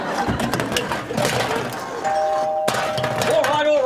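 A doorbell rings out with a sustained electronic tone over a busy, noisy background, and a second chime follows shortly after.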